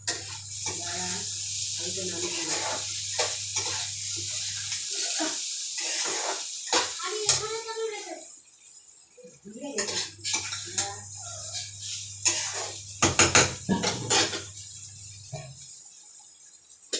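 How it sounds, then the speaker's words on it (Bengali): Duck meat is stir-fried in a metal kadai, with a spatula scraping and clanking against the pan in bursts over a low hum while a voice talks. "আমি একটু কড়াইটা কষতে দিয়েছিলাম"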